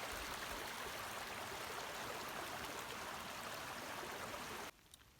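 A shallow stream runs steadily over its bed near a footpath, a dense continuous wash of trickling and gurgling water close by, cutting off abruptly near the end.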